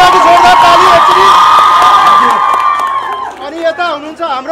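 An audience at a hall cheers and shouts loudly, then the noise breaks into scattered whoops and overlapping voices as it fades.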